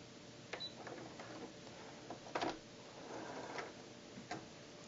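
Babylock sewing machine stitching and pulling up the bobbin thread, faint light ticking and soft mechanical clicks at an uneven pace against a quiet background.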